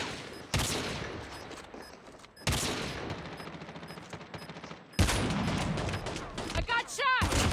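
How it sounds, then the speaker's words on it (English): Bursts of gunfire in Call of Duty Mobile arrive in several loud volleys with short gaps, ending in a sharp ricochet-like whine, with game voices faintly under the shots. "I got shot!"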